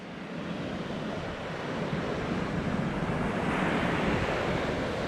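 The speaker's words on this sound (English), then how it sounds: "the water does swell pretty good right here at the shore" Ocean surf rolling onto the shore at Playa Bonita beach in Costa Rica at low tide, a steady broad wash that swells slightly louder toward the end, with wind buffeting the microphone and no voices.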